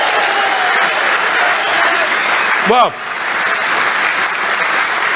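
A Brexit Party rally crowd in Durham cheers and applauds in a dense, steady roar that dips briefly before carrying on, with a voice speaking over it.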